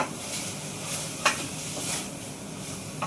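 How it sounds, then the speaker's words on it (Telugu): Gongura greens stir-fried in oil in a pan, with a soft continuous sizzle close up and a few scraping stirs and light spatula knocks. "అడుగు పట్టకుండా చక్కగా ఇలాగా వేయించుకోండి."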